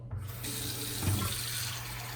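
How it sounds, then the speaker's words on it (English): Tap water runs steadily into a bathroom sink, filling it a little for dipping shaving brush tips; a continuous close splashing stream with no talk. "Fill the sink up a little bit so dipping the tips is easier."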